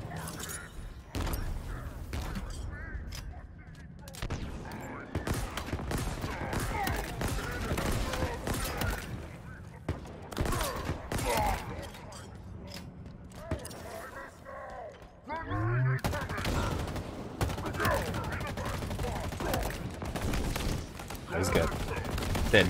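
Gunfire in the video game Halo Infinite, with rapid bursts and single shots cracking through the scene alongside mechanical clanks, while a player talks over much of it.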